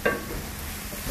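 Garlic and dried shrimp stir-fried in a large pan for a big-batch shrimp and zucchini dish, a brief scrape at the start followed by a steady low sizzle, close and alone.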